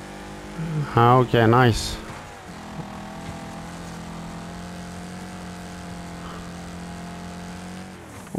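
Race car engine at full throttle in Wreckfest on PS5, a steady loud drone holding a sustained note after a short spoken remark, with a rising whine near the end.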